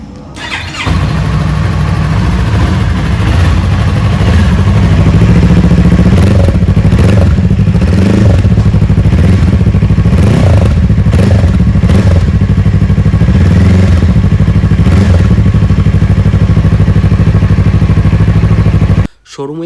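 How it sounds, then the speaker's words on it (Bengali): A Yamaha R3 sport motorcycle starts up and runs, a loud close engine idling steadily with occasional revs and mechanical clatter, cutting off abruptly at the end. "এবার আপনাদের শোনাবো বাইকের অরিজিনাল সাউন্ড। তার জন্য আমি প্রথমে বাইকটাকে অন করে নিলাম। এবার বাইকটাকে আমি স্টার্ট করছি।"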